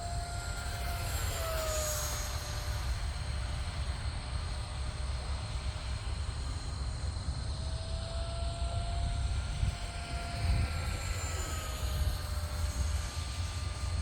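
An FMS F-16 Thunderbird V2 electric RC jet on a 4S battery flying overhead, a steady whining drone that swells and fades slightly as it passes at a distance, over low rumbling wind noise and without speech.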